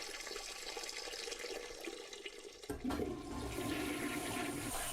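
A household toilet flushes close by. A sharp lever click sets off a loud rush and swirl of water that carries on steadily, and no one speaks.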